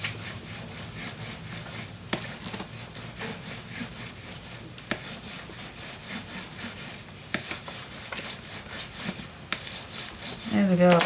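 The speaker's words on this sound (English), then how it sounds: "let's burnish this down" Glued paper is burnished down on a small craft album with repeated back-and-forth rubbing strokes, a rhythmic dry scraping close up that grows louder near the end.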